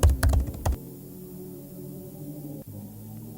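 Keyboard keys clatter rapidly in a burst of typing in the Itch digital horror video game, loud and close for under a second, then give way to a low steady hum.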